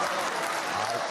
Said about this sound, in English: Adam Carolla is clapping.